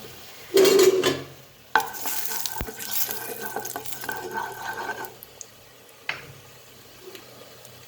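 Soybean chunks frying lightly in a kadai give a soft sizzle, with a loud stirring scrape early and a few utensil clanks.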